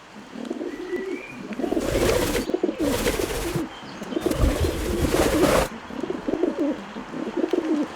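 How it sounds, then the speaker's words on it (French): A pigeon coos loudly and close by as it passes overhead, its throaty calls coming in repeated bursts over about eight seconds. "il y a toujours un pigeon qui passe au-dessus de ma tête"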